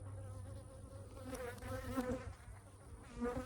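Bees swarm around a backyard orchard beehive, agitated by a passing trencher, making a close, continuous buzzing drone that rises and falls with wingbeat tones over a low background rumble.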